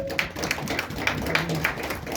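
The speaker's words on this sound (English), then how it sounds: "Let's clap hands for her." An audience at a church teaching session claps hands: a short burst of scattered, fairly close claps over a room murmur.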